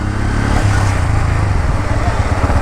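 A Bajaj Pulsar N160 motorcycle, a year old with 13,000 km, rides along hill roads with a steady, loud engine drone and rushing wind.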